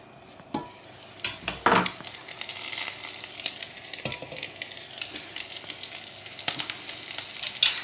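Spring-roll filling sizzles and crackles steadily in a hot pan, with a few louder pops and clinks of stirring scattered throughout.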